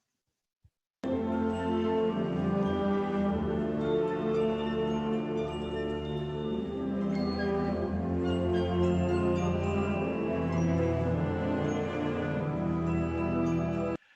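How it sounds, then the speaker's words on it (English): A band plays a passage from Rachmaninov's Symphonic Dances, full and sustained, with piccolo and glockenspiel twinkling on top of the rich ensemble texture, steady and continuous without any voices. "on top of that, you've got the piccolo and the glockenspiel just twinkling along"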